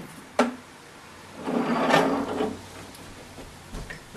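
Latches on a CFX machine click open, then the top half scrapes and rubs as it is lifted off, a short quiet knock followed by a longer muffled shuffling.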